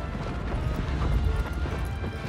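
A horse gallops in the video game Shadow of the Colossus, its hooves thudding in a dense, rapid stream against low rumbling ambience, with no talk over it.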